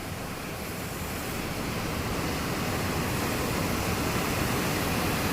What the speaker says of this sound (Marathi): आणि काय पाण्याचा फ्लो आहे, बापरे.